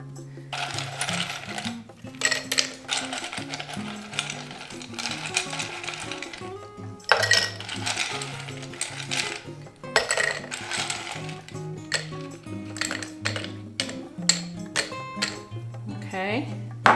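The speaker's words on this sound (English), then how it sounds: "I'm going to fill these glasses here with ice." Ice cubes rattle and clink into glasses for a Bloody Mary, with repeated bright knocks and tinkles in uneven bursts, close by, while someone talks over much of it.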